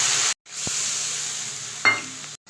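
A tomato, ginger and garlic paste fries in hot oil with a steady hiss, cut by brief gaps and a single clink of a utensil partway through.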